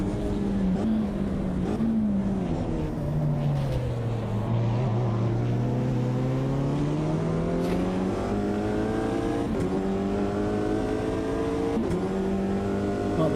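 A light Alpine GT4 race car in a sim racing game climbs a hill, its engine note sweeping down then rising steadily in a loud, continuous drone with layered harmonics and brief clicks of gear changes.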